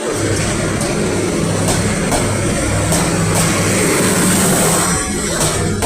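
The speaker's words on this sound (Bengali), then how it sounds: "যে গাড়িটা চলে যাচ্ছে ঢাকা কমলাপুর স্টেশন থেকে" A tourist train pulls out of Dhaka's Kamalapur station bound for Cox's Bazar via Chittagong, its loud, steady rumble and rhythmic wheel clacks passing close by without pause.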